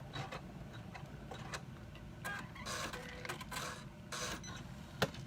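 A Starfish Designs embroidery machine shifts its hoop into position for the next stitch on a key fob pouch, giving soft mechanical ticking and whirring with a small click near the end, close and fairly quiet.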